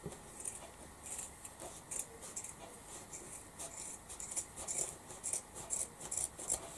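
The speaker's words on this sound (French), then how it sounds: "Donc là, je coupe le tissu" Scissors snip through fabric for a sewn tote bag in a craft workshop, a faint run of quick, crisp cuts ticking along with short pauses, close and quiet with no talk.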